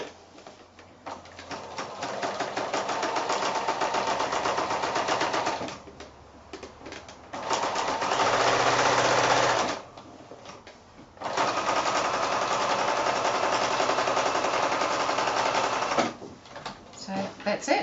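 A sewing machine joins quilt-as-you-go blocks and borders in long, steady runs of rapid mechanical stitching, stopping twice briefly with quiet handling sounds between bursts.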